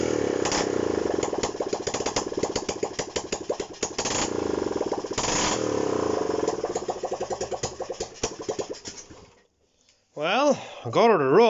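A Honda CB125 RS small single-cylinder motorcycle runs close by with a rough, uneven putter and revving, then cuts out to near silence before a voice is heard over a restart.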